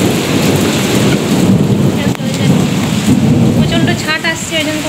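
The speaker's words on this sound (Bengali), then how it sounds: "প্রচণ্ড দেখো মেঘ ডাকছে আর বৃষ্টি জল ঢুকে ওইখানে দেখো গ্রিল সব ভিজে গেছে।" Heavy rain pours onto a wet window grille and nearby surfaces while thunder rumbles loudly during a storm, the downpour a constant close hiss beneath the deep rolling peals.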